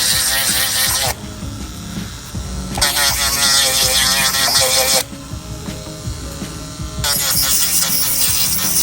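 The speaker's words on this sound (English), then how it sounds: "just take your drill or your nail file" Alternating bursts of a high-pitched whirring electric nail drill and a lower gritty buzz, switching on and off in long stretches.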